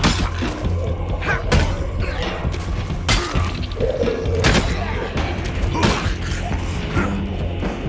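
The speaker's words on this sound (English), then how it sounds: "Now we're using the splitting maul." Heavy weapon strikes in the zombie survival video game State of Decay 2, a string of sharp crashing, shattering impacts and thuds at irregular intervals over game background noise.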